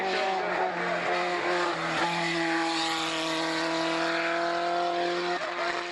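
A Renault race car with an Alpine-type engine climbs the ramp of a hill climb, its engine loud, close and steadily droning at high revs throughout, with some tire noise and no talk over it.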